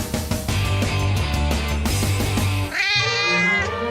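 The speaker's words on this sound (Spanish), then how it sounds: "El gato, cuando maulla, hace miau, miau. Oídlo." A cat meows loudly and close, drawn-out harmonic cries that shift into a higher, strained wail near the end.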